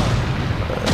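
A grenade explodes in the Resident Evil 4 video game, a loud, dense boom with a rumbling body that fills the whole moment, followed by a sharp burst near the end.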